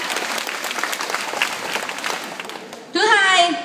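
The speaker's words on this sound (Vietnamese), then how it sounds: "cô giáo muốn tất cả toàn trường ta hãy nổ một tràng pháo tay thật lớn để chúc mừng chính chúng ta" A whole school assembly breaks into loud, sustained applause from a large crowd, steady clapping for about three seconds before cheering voices and a rising shout burst in at the end.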